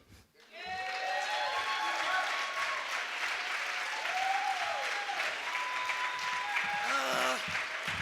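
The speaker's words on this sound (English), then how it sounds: "Clap it up for Hakeem Furious, the poet, and the poems" After a brief quiet start, an audience at a poetry performance breaks into sustained applause mixed with whoops and cheers, staying loud to the end.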